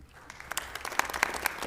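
City council members clapping in a meeting chamber, a loose scattering of claps that grows denser toward the end, fairly faint and at moderate distance with a bit of murmur behind.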